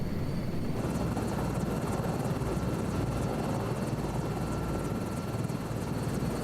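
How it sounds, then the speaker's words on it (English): A helicopter in Microsoft Flight Simulator 2024 drones with a loud, constant rotor-and-turbine roar and fine rapid blade chop, unbroken across the whole stretch. "That's helicopter."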